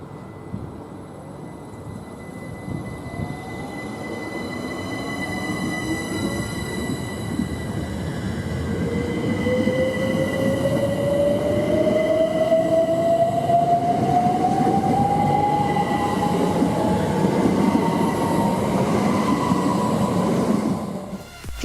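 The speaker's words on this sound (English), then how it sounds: "As the electricity picks up more speed, then it gets the sound changes and it starts getting like a voice crack almost" Electric train on the East Coast Main Line, heard in a Roblox rail simulation, accelerating with a rising motor whine that climbs steadily in pitch over rumbling wheel and carriage noise, loud and continuous.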